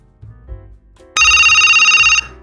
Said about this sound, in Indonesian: Nah, menyala, berdering.